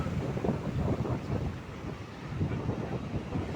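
Strong wind at sea buffets the microphone in a steady roar with low rumbling gusts, a continuous blustery rush without any voices.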